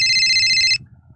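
A bright electronic phone ringtone trills steadily for under a second, then cuts off, leaving low background rumble.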